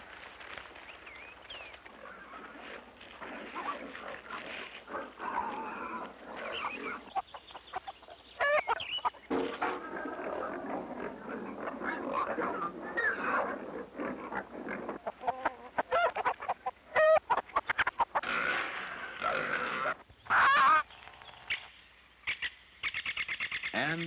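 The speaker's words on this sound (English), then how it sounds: "get Widow Alice's hens out of the waste" Hens in a medieval village setting clucking and squawking near and loud, irregular bursts of agitated cackling over a steady background, without speech.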